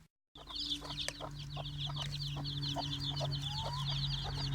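Several hens cluck in short, repeated bursts nearby, with high chicks peeping steadily over a low background hum.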